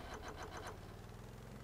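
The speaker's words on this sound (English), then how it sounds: "we're going to get the motor started up" A boat motor runs at low RPM in the video game Stormworks, a faint steady mechanical drone with a few quick rhythmic knocks near the start and no voices.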